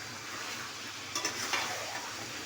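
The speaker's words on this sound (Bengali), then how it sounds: "ভালো করে নেড়ে দিলাম," Olive pickle being stirred in a pan, with a steady broadband sizzle and a few scraping spoon strokes around the middle, alone and close.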